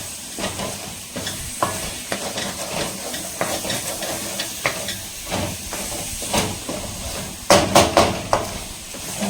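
Keema minced meat with pepper is stirred in a sizzling pan, a continuous hiss broken by repeated scraping strokes that grow louder and busier toward the end.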